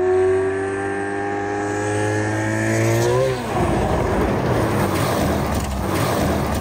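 A high-revving Ferrari sports car engine, its pitch climbing steadily and then breaking into a loud, rough roar as it accelerates hard, close by.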